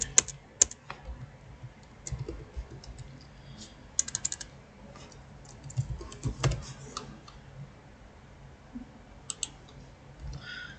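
Computer keyboard typing while entering department data into an Excel spreadsheet, bursts of quick close key clicks separated by quiet pauses.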